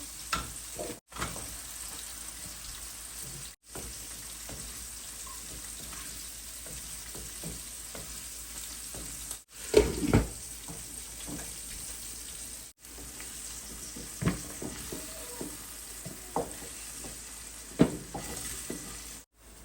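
Broad beans and potatoes fry in a pan next to small fish and catfish cooking in an outdoor kitchen, a low steady sizzle broken by irregular stirring scrapes and a few brief gaps.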